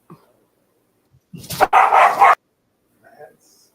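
Dogs bark in a short, close burst of two or three loud barks in a quiet room, followed by a faint, distant whimper.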